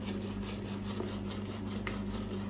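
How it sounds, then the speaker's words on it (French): A toilet brush scrubs inside a toilet bowl in steady, continuous rubbing strokes, close and moderately loud, with no talking. "j'ai pris la brosse. On frotte un petit peu."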